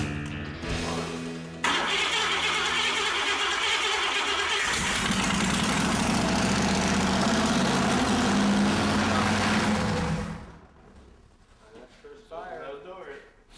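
An engine in a custom garage build cranks and then fires up after oil is squirted down a cylinder, running loud and rough for several seconds before shutting off, with people talking around it.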